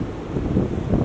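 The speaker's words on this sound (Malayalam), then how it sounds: "ഭയങ്കരമായിട്ട് കാറ്റും വീശുന്നുണ്ട്, അതേപോലെ സ്നോയും നന്നായിട്ട് വീണിട്ടുണ്ട്" Strong wind roaring outdoors during heavy snowfall, a loud, constant low buffeting rush right at the microphone with no pauses.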